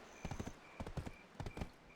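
Horse hooves clip-clop in the Black Desert Online video game, a brisk rhythmic gallop of close, clear hoofbeats in quick groups of several strikes, with no talking.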